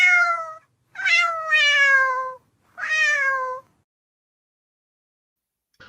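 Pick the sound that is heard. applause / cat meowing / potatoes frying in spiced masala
cat meowing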